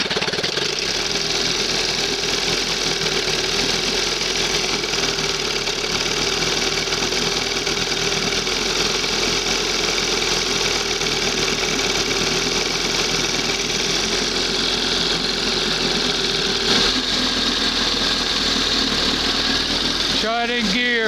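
An old 20 hp Johnson outboard motor runs continuously with a steady droning roar, close and loud, holding an even pace throughout with a brief shift in tone near the end.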